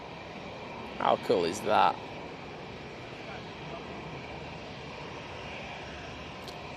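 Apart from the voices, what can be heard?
Etihad jet airliner climbing out on departure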